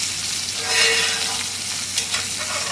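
Steak being basted with butter in a grill skillet, a close, continuous sizzle and crackle with brief splattering bursts and spoon scraping, heard alone without speech.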